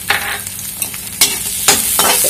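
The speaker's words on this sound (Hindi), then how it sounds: "अब मैं डालूंगी थोड़ा सा प्याज" Chopped onion sizzles in a hot pan with garlic and dried red chili for a pizza sauce, a loud steady frying hiss broken by several sharp spoon scrapes as it is stirred.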